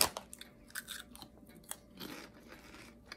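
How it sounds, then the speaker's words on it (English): A crunchy seaweed snack gets bitten and chewed up close, giving a series of sharp crisp crunches followed by softer irregular crackling, with no talking. "Hear that crunch?"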